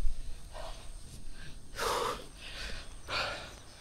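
Heavy, labored breaths while climbing a steep uphill road, several loud gasping exhales in an uneven rhythm, close to the microphone with no talking.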